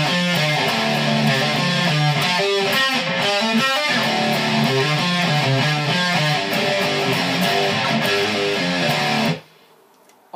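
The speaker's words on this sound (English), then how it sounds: "So the rhythm guitar underneath it is going to sound like this." Distorted rhythm guitar part from a song, loud and continuous with chunky repeated chords and bluesy figures for about nine seconds, then stopping abruptly into near silence.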